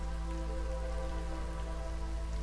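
Constant rain in the Against the Storm video game, an even hiss of falling water over a low steady drone, unbroken and fairly quiet with no voices.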